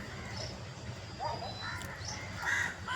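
A crow caws a few times at moderate distance over a steady outdoor background hum, the calls rough and spaced apart.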